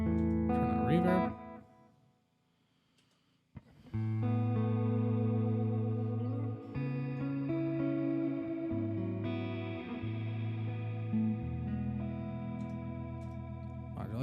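An electric guitar played through a pedalboard with the reverb effect switched on rings out in sustained chords and notes with a reverberant, effected tail, after a brief quiet gap early on.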